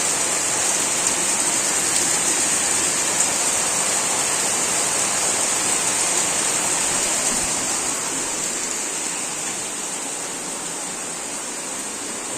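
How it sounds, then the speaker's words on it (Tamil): Heavy rain pouring down outdoors, heard as a dense, unbroken hiss that stays fairly loud throughout and eases only slightly near the end, with no speech. "வெளியில் பார்த்தீங்கன்னா சும்மா ஜோராக மழை பெய்யுது."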